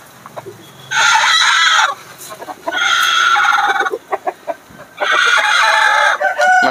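Roosters and hens at a poultry breeder farm crow and cluck loudly and close by, in three strong bursts separated by short pauses with scattered clucks between them.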